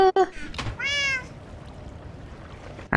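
A cat in Minecraft gives one clear, near meow with a rising-falling tone, preceded by brief clicks and followed by quiet background ambience; no one talks.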